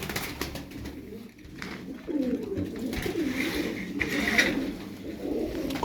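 Tumbler pigeons coo softly in low, rolling murmurs, with some faint clicking and rustling in the background.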